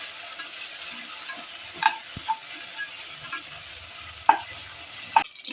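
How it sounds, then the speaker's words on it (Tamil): Green chillies and mint sautéing in a pan for tomato rice, a steady hiss of frying with a few sparse spatula taps and scrapes against the pan. "பச்சை மிளகாய், புதினா, எல்லாத்தையும் போட்டு நல்லா வதக்கிடலாம்."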